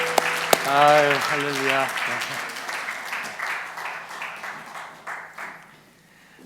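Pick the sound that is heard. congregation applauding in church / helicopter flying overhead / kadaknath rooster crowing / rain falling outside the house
congregation applauding in church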